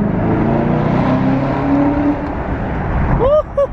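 A 2018 Chevrolet Camaro ZL1 accelerates hard in third gear through an underpass, a loud, sustained engine roar that climbs in pitch near the end, with a faint voice underneath.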